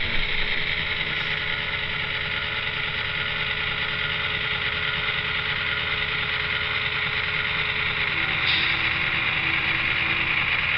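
An N scale AC6000 model locomotive sound system plays a steady diesel rumble with a compressor running, a continuous, even mechanical drone that stays level throughout with no talk.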